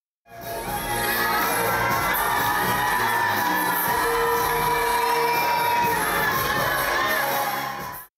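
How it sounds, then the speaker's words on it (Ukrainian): Crowd of colleagues, relatives and friends cheering and shouting for contestants at the Miss Zaporizhstal 2019 beauty pageant in Zaporizhzhia, a loud, continuous wall of whoops and yells filling the hall without pause. "Вони оваціями зустрічали кожну дівчину"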